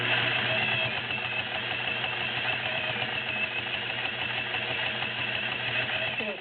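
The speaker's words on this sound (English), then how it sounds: "It only has and this is 5 to 6 layers of denim" Vintage Singer 401A Slant-o-Matic sewing machine stitching through five to six layers of denim, a steady, continuous motor whir and rapid needle rattle at a constant pace, close and moderately loud.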